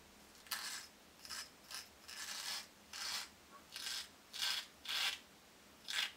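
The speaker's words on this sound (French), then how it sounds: "Il se rase à l'aveugle." A heavy stainless-steel safety razor is drawn over a lathered face, shaving blind with the left hand. It makes about nine short, close, rasping strokes with brief pauses between them, and no one speaks.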